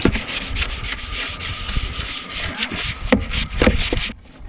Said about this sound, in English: before I take the plug out, I usually scrape a little bit on the sidewalls